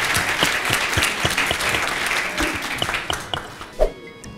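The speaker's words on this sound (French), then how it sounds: "Il faut les applaudir." An audience applauding at a televised awards-style show, dense steady clapping that thins and tapers off toward the end, with a few isolated claps closing it out.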